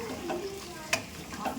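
Chicken cooks in a pan with onion and tomato for yogurt chicken, a spoon stirring through a soft, steady sizzle with one sharper scrape partway through.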